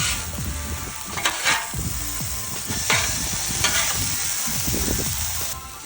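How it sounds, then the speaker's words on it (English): Steak and onions sizzle loudly on a Blackstone griddle as they are mixed together, a steady close frying hiss broken by repeated scraping and stirring strokes of a spatula on the flat metal surface. "slide those onions right over and get them mixed in"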